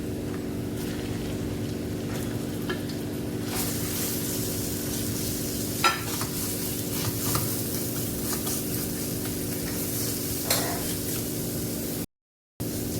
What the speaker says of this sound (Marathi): आपल्याला मसाला छानपैकी परतून घ्यायचा आहे तेल सुटेपर्यंत